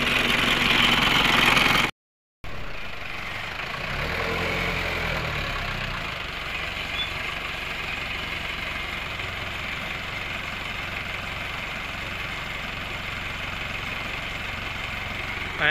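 A used Isuzu C223 4x4 off-road vehicle sits idling, its engine a steady low hum that carries on evenly for the whole stretch after a brief cut near the start.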